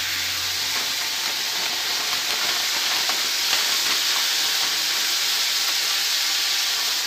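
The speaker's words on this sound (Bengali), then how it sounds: "আর চলো জলটা ফুটে গেছে" Water at a rolling boil in a pot, ready for chowmein noodles, a dense, steady hiss and bubbling roar that holds evenly throughout, close and fairly loud.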